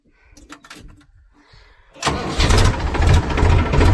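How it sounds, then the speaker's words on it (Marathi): A farm tractor engine cranks briefly after some faint handling clatter, then catches and roars into a loud, rough, steady idle close by. "चला, आता आपण ट्रॅक्टर सुरू करू."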